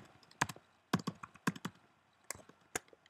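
Keys clack on a computer keyboard in short, irregular bursts of crisp taps close by, with brief pauses between them.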